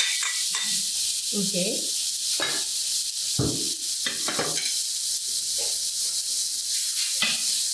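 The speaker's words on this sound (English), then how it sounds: "I know they say you have to keep stir frying" Lamb stir-frying in flavoured oil during a live cooking class: a steady, close sizzle with repeated scraping and stirring strokes, while a person talks briefly.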